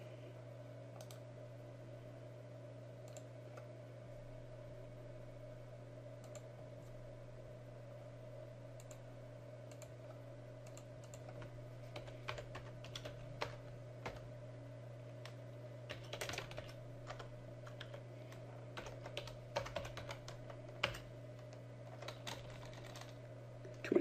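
A password is typed on a computer keyboard, soft irregular key taps in scattered bursts over a steady electrical hum, close and without talk.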